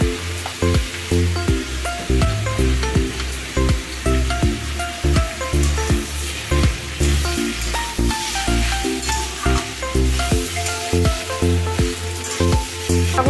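Prawns frying with salt and turmeric in a pan for a Bengali snake gourd and prawn chorchori, giving a loud, steady sizzle with clattering stirring strokes throughout.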